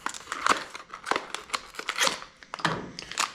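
A plastic bag holding LED headlight parts being opened, with crinkling, rustling bursts and small crackles close up, fairly quiet.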